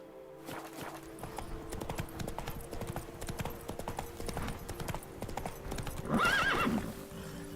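Roach the horse gallops in The Witcher 3: Blood and Wine, a steady run of hoofbeats that continues throughout, closing with a loud neigh near the end.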